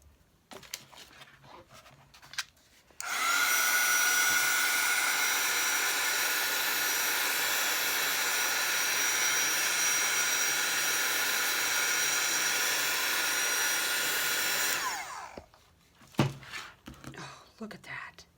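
A handheld heat tool blows hot air over a homemade file-folder journal, a loud, steady roaring whoosh that starts abruptly, holds for about twelve seconds, then cuts off, with quiet speech and handling noises before and after.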